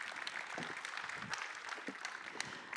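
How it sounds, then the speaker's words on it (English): An audience claps steadily to welcome a speaker onto a conference stage, a dense, even patter of many hands sustained throughout at moderate distance with no talking over it. "So let us add applause"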